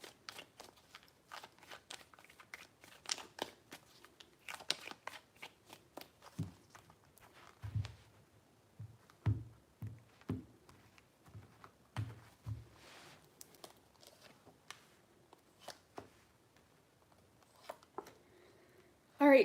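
Tarot cards are shuffled by hand in quiet, irregular bursts of soft riffling and crisp flicks, with a cluster of dull thumps and taps midway. Close and faint, with no talking.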